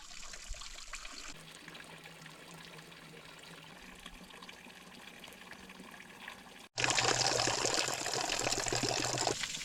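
Mountain water streams down while a water supply is refilled, first as a soft steady trickle and then, after a brief cut, as a much louder close rushing flow.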